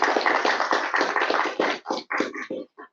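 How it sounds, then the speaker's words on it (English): Applause from a seated conference audience for the speakers at an introductory session, a dense burst of many hands clapping that thins out and fades to a few scattered claps. "So maybe just a round of applause for the speakers."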